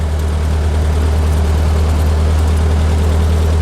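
A VW 1800 engine with a bigger than stock cam, running at 1100 RPM in 4th gear at 30 miles an hour, a loud, steady low drone heard from inside the car without talk.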